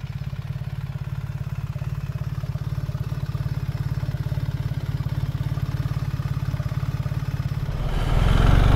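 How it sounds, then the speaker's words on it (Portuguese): A BMW R1300 GS motorcycle engine drones steadily at a distance, then swells louder at the end as the bike approaches and rides past, with no talk. "Vou fazer agora aí só umas passagens para vocês terem noção de como é que fica a moto"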